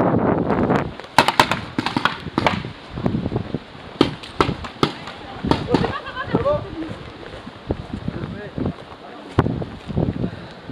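During an outdoor paintball game, paintball guns fire in irregular bursts of sharp pops, some in quick rapid strings. Wind buffets the microphone and people shout and talk between the shots.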